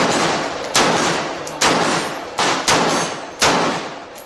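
Six sharp gunshots ring out at irregular intervals, each a loud crack that leaves a short decaying ring in an outdoor shooting session, with no talk over them.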